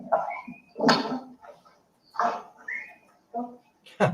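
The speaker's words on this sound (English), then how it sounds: "She's whistling for the dog." A woman whistles for a dog indoors in short, bright whistle tones spread across a few seconds, mixed with people talking and brief movement noises nearby.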